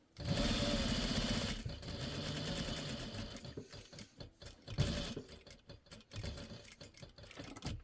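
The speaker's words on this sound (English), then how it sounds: "I'm gonna back stitch a little extra right here" A sewing machine back-stitching a fabric seam near a Velcro strip on a catnip mat: a loud, fast mechanical whir up close, then slower, stop-start stitching bursts with clicks.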